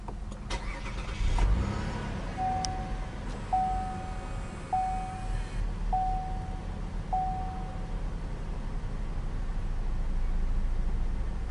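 A 2012 Cadillac SRX Performance Collection cranks and fires up via push-button ignition, a brief rising engine surge that settles into a steady, smooth idle close by inside the cabin, with a few soft repeated electronic chimes over the running engine.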